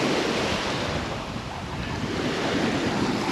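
Sea waves washing onto a sandy beach at Olenivka in Crimea, a steady broadband surf wash with gentle swells, mixed with wind buffeting the microphone, continuous and fairly close.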